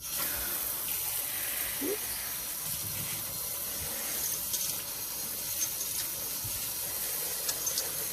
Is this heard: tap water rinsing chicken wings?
yes